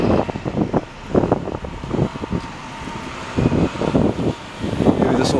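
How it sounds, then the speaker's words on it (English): Gusts of northwest wind buffet the microphone on a Montreal city street in the Ville-Marie district, rumbling in irregular bursts close to the mic while faint traffic sits underneath. "Maybe this will cut down on the wind factor since the wind is coming from the northwest."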